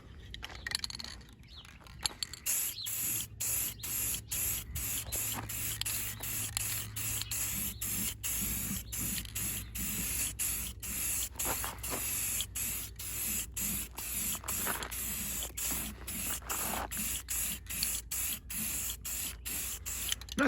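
Aerosol spray paint being applied to the front lip of a 1987 Mk3 Toyota Supra, heard as a long close hiss broken into many short bursts with brief gaps between them.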